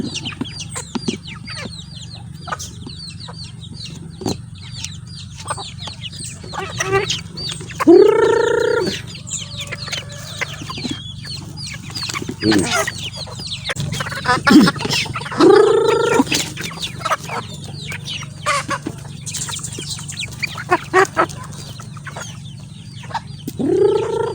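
Chickens cluck and squawk in scattered bursts over a steady low hum, with a couple of louder, drawn-out calls standing out close by.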